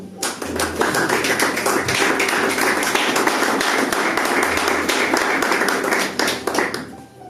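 A church congregation at a Sunday service claps together in sustained, dense applause lasting several seconds before it thins out near the end.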